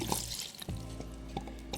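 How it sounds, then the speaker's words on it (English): Lighter fluid poured over a Black Forest Regula 03 cuckoo clock movement sitting in a tray, a short, close trickling splash of liquid with a steady pour. "And I'll pour some lighter fluid over the top of it"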